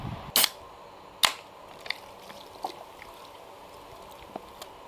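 A pull-tab beer can is cracked open in a kitchen where sliced pig liver is being prepared: a sharp metallic pop, then a second crisp snap and a few faint clicks against quiet room tone.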